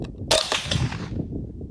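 One sharp, muffled shot from a .22 rifle with an ALS suppressor, firing Stinger ammunition at 500 metres per second, cracks out, followed by a short fading rumble, with quiet outdoor ambience around it.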